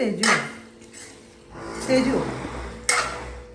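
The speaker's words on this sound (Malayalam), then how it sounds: "നമുക്കിനി ഇതൊന്ന് ഇളക്കി കൊടുക്കാം." A spoon stirs chicken curry in a metal pot, giving a few close clinks and scrapes against the pot's side in separate strokes, with a louder knock near the end.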